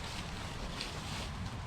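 Steady, loud wind buffets the microphone with a broad, rushing roar and low rumble, continuous throughout with no voices.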